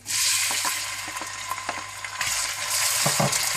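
Cumin seeds and onions frying in hot ghee or oil in a pan, a loud continuous sizzle with occasional stirring scrapes and pops close up.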